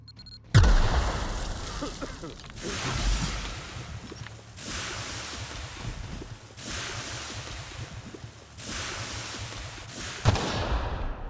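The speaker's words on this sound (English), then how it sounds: "I don't notice all these explosions in this cave" Explosions in a cave in The Outer Worlds video game boom and echo in repeated bursts, each followed by a rumbling wash, over a low continuous hum of game ambience.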